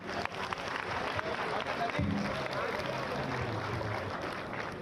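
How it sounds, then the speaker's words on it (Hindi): An audience at a state honour ceremony applauds to welcome the chief guest, steady clapping spread across a crowd beneath continuous announcer speech over a PA system. "कृपया माननीय मुख्य अतिथि महोदय के स्वागत में एक बार जोरदार तालियों से उनका अभिवादन करें।"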